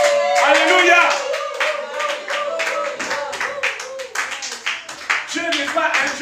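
A church congregation clapping in acclamation of the Lord, with rapid, loud rhythmic hand claps in a steady run under a voice speaking.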